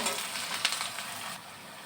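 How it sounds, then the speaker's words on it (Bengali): Onions and chillies fry in a hot pan with a bright, steady sizzle, a few sharper crackles and spatters popping up briefly before the hiss eases slightly near the end. "পেঁয়াজ কয়েকটা মরিচ দিয়ে আমি এটাকে ভালো করে নাড়াচাড়া দিয়ে একটু পেঁয়াজগুলোকে ভেজে নেব।"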